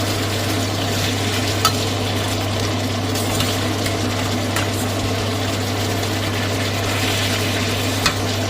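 Chicken for Filipino pineapple chicken sizzling steadily in a hot pan, a constant crackling hiss over the low droning hum of a nearby fan.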